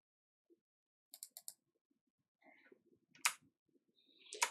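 A computer mouse gives a quick run of sharp, faint clicks in a quiet room, followed by a few scattered soft taps and clicks.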